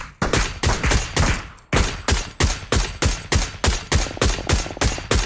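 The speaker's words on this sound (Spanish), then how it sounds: "Me disparan, el de la MG lo acaba de explotar." Rapid bursts of automatic gunfire in PUBG, a loud, sustained fusillade of sharp, evenly spaced shots close by, broken by a brief pause before the rhythmic firing resumes.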